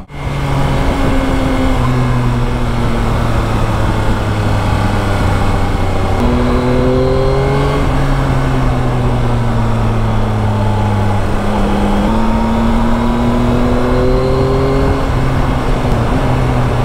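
A Yamaha Tracer 900 GT motorcycle engine revs loud and close, its pitch climbing and dropping repeatedly as it is run up and down through the gears, with no talking over it.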